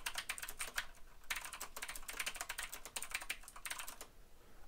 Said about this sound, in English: let me go ahead and just type on them real quick so I can get a good idea of how loud they are